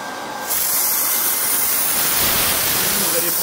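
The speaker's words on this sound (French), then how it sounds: "c'est qu'on dépressurise" An AEGON PCP high-pressure air compressor vents its pressurized air in a loud, steady hiss that bursts in abruptly and holds at full strength without a break.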